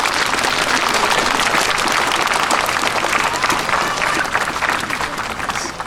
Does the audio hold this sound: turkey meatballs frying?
no